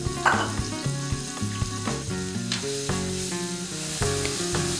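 Chopped onions hit a pan with ground roasted coriander and fenugreek, sizzling loudly and close with a bright crackling burst at the start, then settling into a steady fry with stirring clicks.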